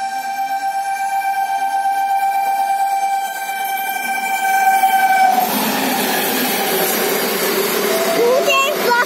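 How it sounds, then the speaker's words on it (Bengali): A local train from Asansol to Howrah sounds a long horn at a station crossing, then rumbles and clatters past nearby with squealing wheels toward the end. "আসানসোল থেকে হাওড়া কানি এই local train, local train crossing হবে"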